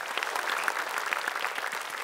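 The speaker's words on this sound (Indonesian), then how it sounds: "Tepuk tangan sekali lagi" Audience applause on a TV Eid show, dense steady clapping from a crowd that holds at even strength for the whole stretch with no voices over it.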